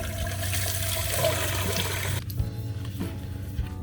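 Running water at a campsite while dishes are washed up, a steady splashing stream that stops abruptly partway through, leaving quieter drips and clinks.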